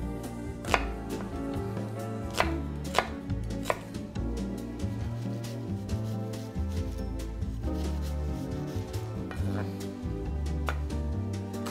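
Knife chopping half an onion very finely on a board for sancocho soup: quick, irregular close taps set under steady background music.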